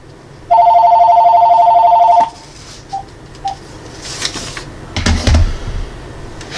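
A telephone rings with a steady electronic trill for about two seconds on a spam call, loud and close, followed by a couple of faint beeps and some clicks and handling noise, with no voice.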